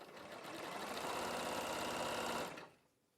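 A sewing machine zigzag stitching down plaited fabric runs in a fast steady whir for about two and a half seconds, then stops abruptly, close and alone without talk.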